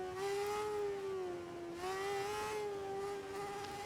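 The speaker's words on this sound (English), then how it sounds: "it's nice to hear the engines rev" Formula 1 car engines in a Codemasters F1 video game hold a high, buzzing whine that dips and rises in pitch as they rev, loud and continuous with no talk.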